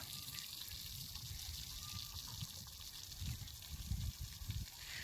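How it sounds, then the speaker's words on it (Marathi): Steady hiss and splash of water spraying onto concrete footings, continuous throughout, with a faint tone in the background. "बघा, पाणी मारायचं काम करतोय आज तो."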